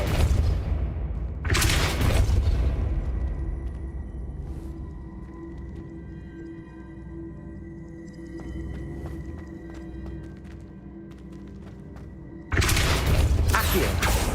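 Depulso force spell in the wizarding game Hogwarts Legacy: a heavy booming blast, a long low rumbling stretch with faint mechanical clatter, then another loud burst near the end.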